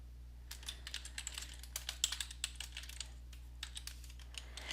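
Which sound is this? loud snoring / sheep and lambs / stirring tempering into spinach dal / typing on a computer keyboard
typing on a computer keyboard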